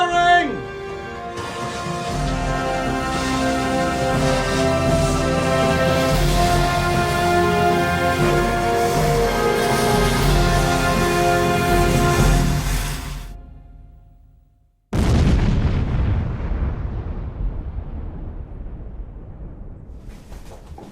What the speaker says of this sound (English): To get the explosion sort of propagating out into the rock, we need to block up the hole